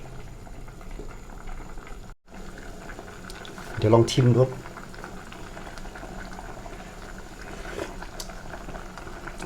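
A pot of kimchi tofu soup bubbles at a steady low simmer, with a short burst of louder boiling midway and a voice speaking briefly.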